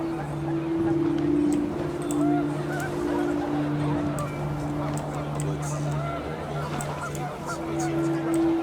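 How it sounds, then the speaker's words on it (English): Panicked geese in the video game What Remains of Edith Finch honk over rising wind, their nasal calls repeating in overlapping, drawn-out blasts at moderate loudness across a busy outdoor bed. "The wind picked up and panicked geese appeared and quickly went."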